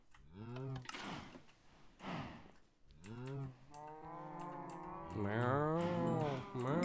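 Cows mooing in Minecraft: several drawn-out, low bellowing moos follow one another at a steady volume, with faint clicks from a computer keyboard underneath.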